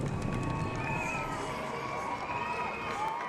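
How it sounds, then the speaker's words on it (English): Roadside spectators cheer runners at the Great North Run half marathon, a continuous wash of shouts and whistles from a large crowd with high-pitched voices rising through it. "Just listen to the crowd, the reaction and the support that the crowd are giving to these athletes"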